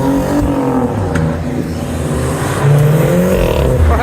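A modified Volkswagen Golf pulls away hard from a car meet, its engine droning loud and close as it accelerates and the pitch climbs, rising in intensity near the end.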